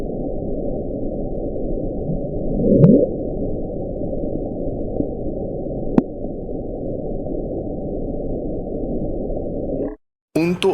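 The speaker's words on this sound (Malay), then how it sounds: "Dan NOAA kini berpendapat bahawa Bloop disebabkan oleh bunyi sekahan glasier" Bloop, an underwater sound recorded by hydrophone in the remote South Pacific and attributed to cracking glacier ice, heard as a steady low rumbling drone with a couple of brief clicks, ending abruptly.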